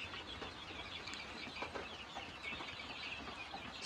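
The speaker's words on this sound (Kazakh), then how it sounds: "Мына мендегім барлығы сол Сергей Посадтан келген балапандар." Chicks of the Kuchinsky Jubilee chicken breed chirp and cheep continuously in a dense, steady chorus, fairly close and even in loudness, with no talking.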